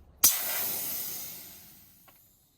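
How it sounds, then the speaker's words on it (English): Air bursts from the valve of a tubeless mountain bike tyre in a sharp hiss that starts abruptly, then fades steadily over about two seconds, ending with a faint tap. "I'm going to release the pressure."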